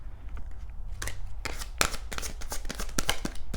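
A deck of oracle cards is shuffled by hand, a run of crisp, rapid riffling snaps and slaps coming in quick bursts, close and clear, after a quieter opening.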